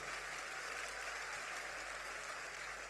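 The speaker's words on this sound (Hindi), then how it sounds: "अगर इनका काम अगर पसंद आता है आपको तो जोरदार जोरदार ताली बजा दीजिए।" Clapping from an audience at a comedy show during a local festival, steady dense applause heard faint and distant, with a low constant hum underneath.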